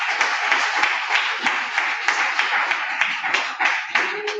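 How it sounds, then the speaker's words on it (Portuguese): A church congregation claps together in a steady, fast rhythm, a dense wash of hand claps with a few voices faintly mixed in. "Aplauda o Senhor bem forte."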